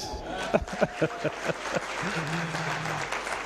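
Applause from an audience for primary school children from Chireka Church of Uganda Primary School as they leave the stage, a fairly light round of clapping with a few sharper claps early on and a faint voice near the end.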